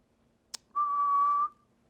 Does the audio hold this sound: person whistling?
yes